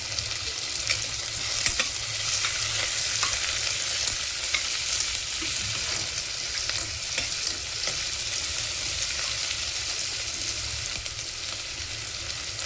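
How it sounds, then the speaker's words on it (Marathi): Phodni tempering for moong dal amti crackles in hot oil with a loud, steady, close sizzle that holds for the whole stretch, with small pops scattered through and no talking. "मस्त सरकन आवाज येतो ना, फोडणी ना चांगली सरसरीतच व्हायला हवी"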